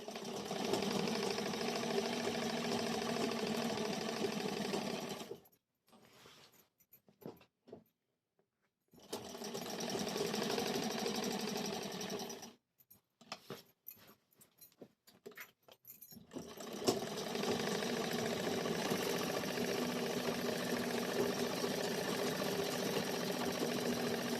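A sewing machine stitches a curved seam on a sharara garment with a steady, close whirring hum, running in three long stretches separated by short pauses with soft handling clicks.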